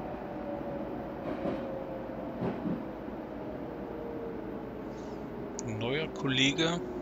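BR 481 S-Bahn train in Train Simulator Classic, interior rumble and steady hum with a few soft clunks, then a higher warbling squeal swells near the end as a train passes on the neighboring track; a voice talks over parts.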